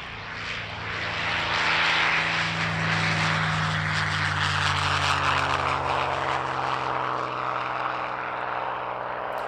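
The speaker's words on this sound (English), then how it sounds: "the final World War II fighter in our programme is P-51D Mustang" A P-51D Mustang World War II fighter flies a display at an air and country show, its piston engine and propeller droning in a steady roar that swells and then slowly fades as it passes.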